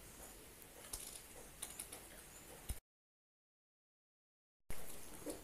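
Soft taps of typing on a phone's on-screen keyboard in an editing app, faint scattered clicks close by, broken by a stretch of total silence before the tapping resumes.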